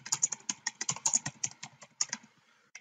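Close, crisp keystrokes on a computer keyboard in quick irregular bursts, about twenty taps over three seconds, with no talking.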